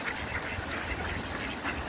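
Ducks quacking in a snowy outdoor scene, several calls repeating over steady background noise, moderately near with no talking.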